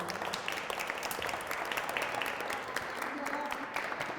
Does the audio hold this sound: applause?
yes